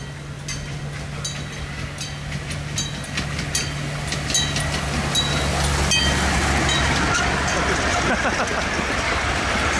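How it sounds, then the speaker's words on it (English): A train rumbles past nearby on Nami Island, South Korea, with a steady low roar and rattling clatter, growing louder over several seconds. "there is a train coming."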